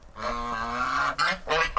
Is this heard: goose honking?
yes